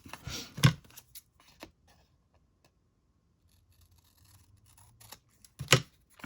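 Scissors snip through paper for a journal craft, a few crisp close cuts at the start and again near the end, with quiet handling between.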